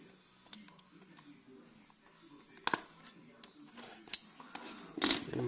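A utility knife slices open the cardboard box of a Xiaomi Redmi 4X phone, giving faint scraping and sharp clicks and rustles that build toward the end while someone talks.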